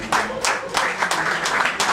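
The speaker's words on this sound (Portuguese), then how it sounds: "Um aplauso." Applause from a live audience at a Cape Verdean musicians' event, a steady dense wash of clapping that carries through the whole moment with some voices mixed in.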